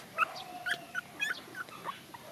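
Newborn puppies from a litter of five whimper in a rapid series of thin, high yips and cries, several short squeals spaced irregularly over quiet background.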